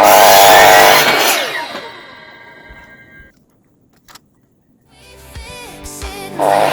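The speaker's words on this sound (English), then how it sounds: "I'm about to cut the noggins out of this timber" A power saw cuts the end off a length of timber for wall framing: a loud whining cut winds down, a short gap of quiet and a knock follow, then the saw revs up again.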